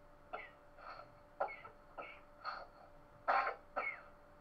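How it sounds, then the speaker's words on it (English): A child coughs and clears the throat repeatedly in short bursts, about seven hacking coughs spread unevenly, close and fairly faint. "The boy's coughing."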